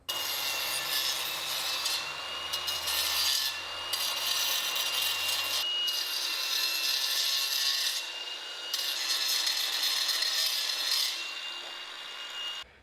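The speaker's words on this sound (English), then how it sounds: "I'm gonna go around with an angle grinder, just with a masonry cut wheel, and just kind of use it to clean up that edge" An angle grinder fitted with a masonry cutting wheel trims the edge of an epoxy garage floor coating, a steady, loud abrasive rasping and grinding that runs continuously with slight surges in intensity and no talking.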